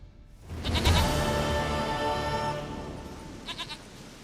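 A goat in the video game The Witcher 3 lets out one long, loud, wavering bleat up close, followed by a couple of short quieter pulses.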